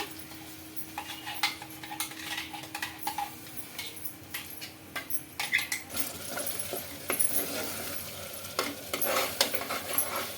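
Soft frying sizzle of a mixer-ground paste beneath frequent metal spoon scrapes and clinks against a pan, close up, with a faint steady hum early on.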